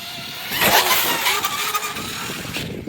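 Traxxas X-Maxx RC truck driving at a ramp, its electric motor whining and rising in a loud, close burst before easing back slightly, running continuously for a few seconds.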